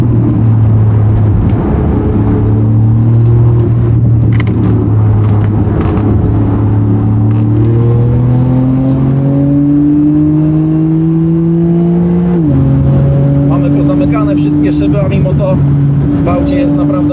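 Porsche 911 Turbo S of the 991 generation, tuned to about 630 hp, revs hard while driving, a loud sustained engine roar whose pitch climbs steadily, then drops sharply at a shift and climbs again.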